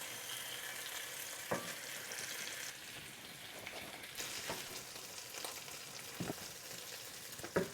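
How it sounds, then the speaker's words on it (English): Food simmering and sizzling in a coconut sauce in a pan, a steady soft bubbling hiss with occasional louder pops and stirring clicks, close and fairly quiet. "You're going to allow this to simmer on both sides for 2 to 3 minutes."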